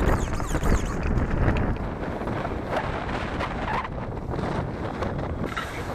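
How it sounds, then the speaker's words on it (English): Strong wind buffets the microphone with a steady, loud roaring rumble throughout, gusting slightly, with no voices. "it's very, very windy"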